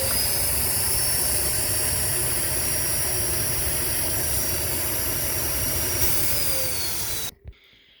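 A Lindhaus HF6 vacuum cleaner motor in poor health runs during an airflow test, a loud, steady whining roar with a high tone that slides downward before the motor cuts off abruptly near the end.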